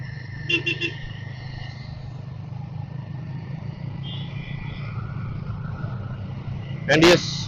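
Saturday road traffic hums around a Guerrilla 450 motorcycle, with a short burst of car horn toots near the start and a louder honk near the end over the engine drone, while someone talks.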